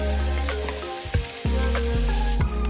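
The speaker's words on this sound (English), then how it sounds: "Now, you can add the chopped sun-dried tomatoes and stir." Chopped sun-dried tomatoes are stirred into a vegan bolognese with meat substitute, a loud close sizzle with a couple of spoon knocks and a steady underlying hum.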